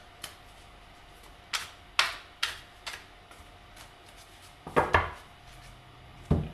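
Tarot cards shuffled off camera, a series of sharp riffling snaps and taps in irregular bursts, a few close clicks separated by quieter pauses, with no voices.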